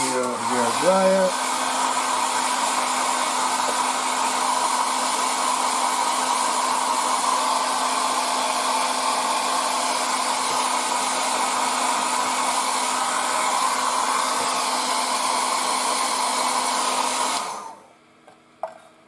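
Hair dryer blowing to dry paint on a 1:35 scale Trumpeter E-50 Standardpanzer model tank, a steady loud whooshing drone that runs continuously for about seventeen seconds before cutting off.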